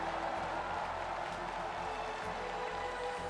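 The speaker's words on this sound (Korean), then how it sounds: "다시 한번 윤석열 대통령과 국민 대표분들을 따뜻한 환영의 박수로" A large stadium crowd applauds warmly at the opening ceremony of the 103rd National Sports Festival in Ulsan, welcoming President Yoon Suk-yeol, a dense and even wash of clapping that holds steady throughout.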